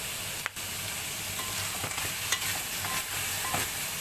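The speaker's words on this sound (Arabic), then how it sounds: "انا بس بدي تشويح" Liver and chicken gizzards sauté in a pot, giving a steady close sizzle and hiss throughout, broken by a few sharper stirring scrapes and clicks.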